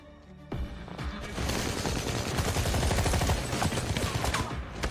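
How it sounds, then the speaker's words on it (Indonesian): A film gunfight inside a nightclub erupts after a brief quiet moment into sustained rapid gunfire, dense overlapping bursts and crashes that stay loud to the end. "kontak senjata pun berlanjut di dalam klub"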